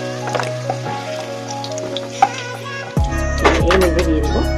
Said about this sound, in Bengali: ওলে সামান্য নুন দিয়ে ভালো করে ভেজে নেব